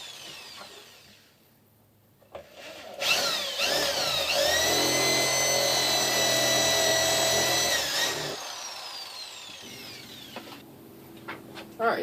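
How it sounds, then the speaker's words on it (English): A power drill fitted with a countersink bit bores into wood for a Halloween lantern, a rising whir that holds steady for about five seconds and then winds down. "you're going to take a drill with a countersink, or a drill in a larger drill bit to countersink it in"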